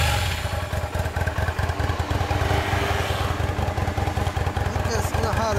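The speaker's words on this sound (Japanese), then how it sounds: "こっちからさっきエンジン音取ります。" A Yamaha DragStar 250 cruiser motorcycle runs steadily nearby, a loud, throbbing engine pulse that holds an even rhythm throughout.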